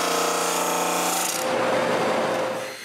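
Wood pieces for Christmas serving trays are power-sanded down to thickness, a loud, close, continuous abrasive whine that shifts pitch midway and tapers off at the end.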